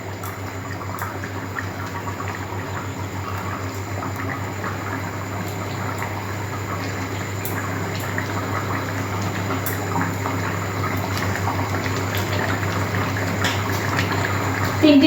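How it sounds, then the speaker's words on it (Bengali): Katla fish curry with pumpkin and potato simmers in a pot, a steady low bubbling hiss with faint pops running evenly throughout, growing slightly louder toward the end. "মাছগুলো দিয়ে আমি একটু ফুটিয়ে নেব।"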